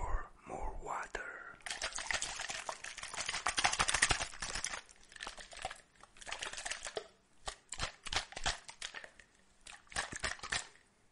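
Water spritzed from a spray bottle during an ASMR haircut, heard as a rapid run of short hissing bursts, close and crisp, with soft whispering underneath.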